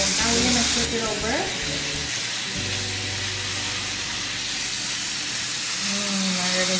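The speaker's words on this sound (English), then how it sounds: "sizzling sound" Shrimp sizzling loudly in butter in a frying pan for honey ginger garlic shrimp, a steady dense hiss that continues without a break, with brief clinks and pan movement near the start.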